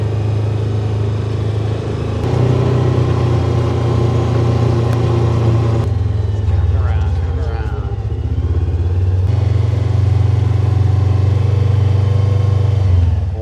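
A vehicle drives across a 17-acre homestead farm, its engine running as a steady low drone throughout, with a few changes in pitch as it moves along.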